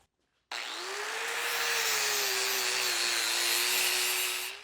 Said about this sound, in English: now we switched over to the flap disc